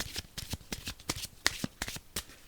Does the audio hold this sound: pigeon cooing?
no